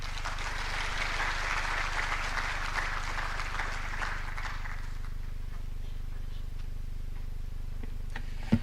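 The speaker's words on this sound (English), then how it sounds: "Another round of applause for the CEO." Audience applause at a Kenyan innovation week opening ceremony, a broad sustained wash of clapping that fades out after about five seconds, leaving quiet room tone and one sharp knock near the end.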